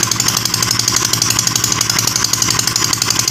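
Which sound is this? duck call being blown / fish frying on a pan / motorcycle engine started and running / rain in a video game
motorcycle engine started and running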